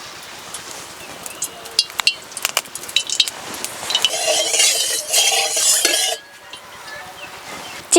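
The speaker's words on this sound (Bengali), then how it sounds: "কড়াইতে দিয়ে দেব সরষের তেল" Mustard oil poured into a wok for a katla fish-head muri ghonto: light clinks and stirring of utensils, then a loud burst of hissing sizzle lasting about two seconds before it drops away abruptly.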